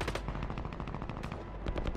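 Rapid automatic machine gun fire in Call of Duty Warzone, a dense rattling burst of shots going on without a break, moderately loud and somewhat distant, with no talking.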